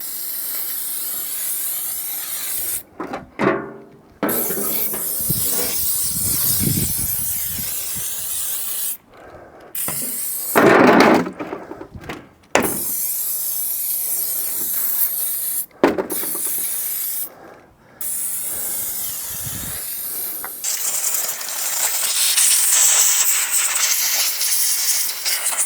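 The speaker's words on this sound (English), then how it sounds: "Right, some WD-40 type stuff, light oil to stop it from rusting. Liberal coating." A light WD-40-type oil is sprayed liberally onto rusty metal, producing close, repeated hissing spray bursts separated by short pauses, with no talking.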